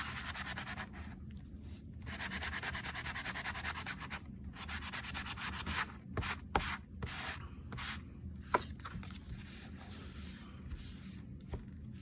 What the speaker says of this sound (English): So sand it a bit.